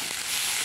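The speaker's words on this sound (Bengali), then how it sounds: "জিরেটা ফোড়ন হয়ে গেছে, পেঁয়াজ দিয়ে দিলাম।" Chopped onion sizzles in hot oil after cumin seeds have been tempered, a brief, soft, even hiss of frying with no voices.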